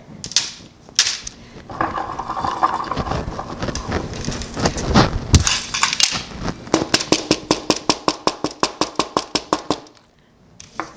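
Dried Walla Walla sweet onion pieces squeezed and crushed by hand, giving crisp crackling crunches followed by a rapid, regular train of sharp brittle snaps that stops abruptly.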